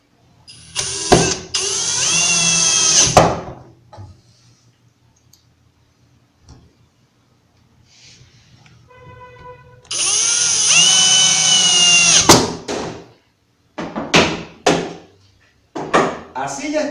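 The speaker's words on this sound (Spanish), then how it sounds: "vamos a ayudarnos con unas prensas e ingresar unos tornillos que unirán el cajón a la tapa de nuestra gaveta" A power drill drives screws joining a wooden drawer box to its front, clamped in place, with two sustained whirring runs and a few short bursts, close and loud, separated by quiet handling clicks.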